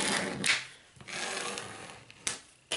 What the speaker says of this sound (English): You're going to burnish this really well to make sure that tape is really in